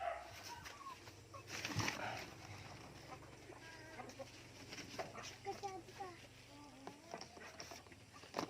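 Breeder hens cluck softly in a coop during egg collection, with short scattered calls under a person talking nearby.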